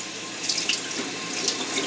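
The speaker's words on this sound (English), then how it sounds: "Wet the brush under the warm water" Warm water runs steadily from a bathroom tap onto a shaving brush, a constant close hiss and splash with slight surges, no voices.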